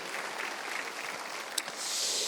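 A congregation at a Sunday church worship service claps, a faint, diffuse wash of applause that swells slightly toward the end.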